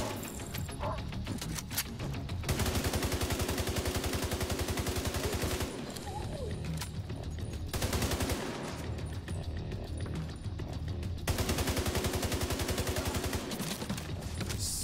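Rapid automatic gunfire in The Division 2, long bursts of dense rattling shots broken by short pauses, loud and close, with no speech.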